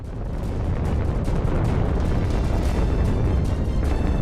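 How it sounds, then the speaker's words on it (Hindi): A controlled demolition blast brings down the Mina Plaza tower in Abu Dhabi, a loud, sustained, heavy rumbling roar that swells in the first half second and continues unbroken. "इस टावर को विस्फोटकों का इस्तेमाल कर उड़ा दिया गया।"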